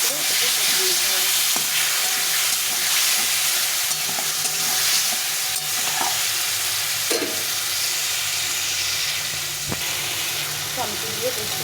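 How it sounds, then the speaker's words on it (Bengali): Chopped tomato sautéing with spices in oil for a Bengali fish curry, a loud close sizzle with scraping stirs and clinks of the spoon against the pan, continuous throughout. "টমেটো দিয়ে আবার ভালো করে এটাকে কষিয়ে নিতে হবে।"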